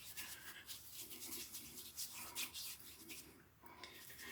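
Ming Shi 5000S safety razor, a Merkur clone, scraping across lathered stubble with Proraso green shaving soap, giving steady close rasping strokes in short repeated passes with no talking.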